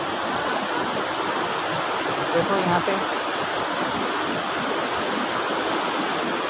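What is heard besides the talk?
river flowing at Ghoghar temple, Rourkela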